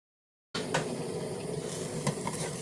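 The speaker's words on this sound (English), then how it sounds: "I really love to hear the sizzling of vegetables" Onions, peppers and garlic sizzle in an oiled pan, a steady crackling hiss with occasional louder pops and stirring clinks, starting abruptly after a brief silence.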